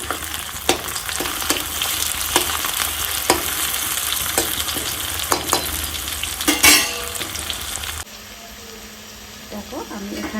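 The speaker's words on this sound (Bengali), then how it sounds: "এবার আমি টমেটোগুলো দিয়ে দেবো যাতে টমেটোগুলো গলে যায় পেঁয়াজের" Tomatoes frying with onions in hot oil give a steady, close sizzle with occasional stirring clatter and spatula scrapes, dropping to a quieter simmer near the end while someone speaks.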